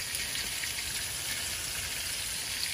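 Garlic sizzles in a hot pan alongside browning onions for a smothered steak dish, a steady close crackle and hiss running without pause throughout.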